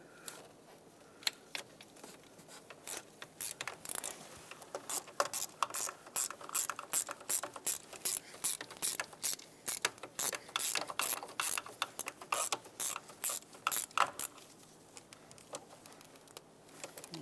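A ratchet clicks in quick repeated bursts while snugging up bolts on a variable valve timing solenoid of a 2014-2021 Mazda 6, close and crisp with short pauses between strokes.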